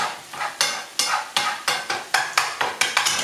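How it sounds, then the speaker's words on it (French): Chopped pieces for stuffed tomatoes are cooked in a frying pan, with loud, close, evenly paced scraping strokes of a utensil over a steady sizzling hiss. "je vais les rajouter dans la poêle pour qu'ils commencent à cuire"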